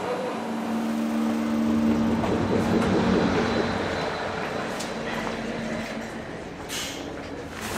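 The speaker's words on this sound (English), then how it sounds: "right here is our train to Vienna." A train bound for Vienna rumbling steadily at a station, a broad continuous low roar with faint metallic whine and a few clanks, heard close and constant throughout.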